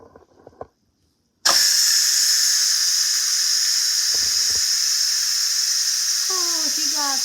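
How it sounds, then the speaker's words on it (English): An Instant Pot pressure cooker holding duck fajitas vents its steam after a short quiet pause: a loud, steady, close hiss that runs unbroken to the end, with a few faint knocks beneath it. "The 3 minutes is over with on the Instapot. So let's release the steam."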